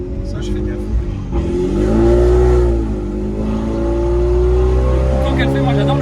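A Stage 3+ tuned Mini Cooper with about 400 horsepower sends a loud, continuous exhaust drone through its exhaust line, rising and swelling in revs with a short peak, with voices talking over it inside the car.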